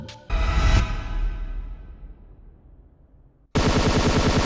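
Gunfire in a Hunt Down the Freeman video game cutscene: a sharp burst of shots followed by a long fading echo, then an abrupt loud stretch of rapid automatic fire at the end.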